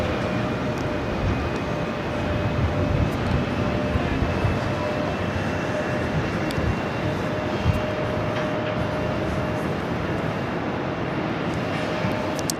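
Delta Connection Endeavor CRJ 900 LR regional jet at JFK airport, a steady broadband engine roar with a faint whine, continuous and fairly loud throughout, no talking.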